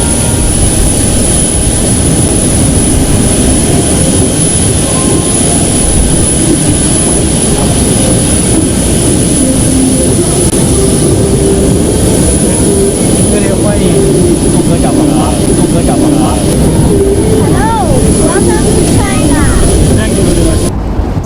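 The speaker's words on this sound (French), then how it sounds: "l'avion du président de la transition a atterri à l'aéroport international de Beijing" A presidential jet plane at Beijing international airport gives off a loud, steady jet-engine roar that stays close and constant throughout, with a faint high whine above the rumble.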